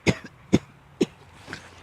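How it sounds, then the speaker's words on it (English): Three sharp coughs in quick succession, roughly half a second apart, followed by a softer throat-clearing sound, close up with no talking. "Sorry about the cough."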